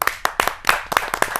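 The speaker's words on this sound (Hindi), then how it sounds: "आपकी जोरदार तालियां मिले नूतन शर्मा जी" A small audience claps for a poet taking the stage at a Hindi poetry gathering, short and uneven with distinct individual handclaps close by, lasting barely over a second.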